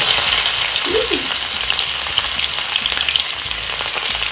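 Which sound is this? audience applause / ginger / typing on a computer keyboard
ginger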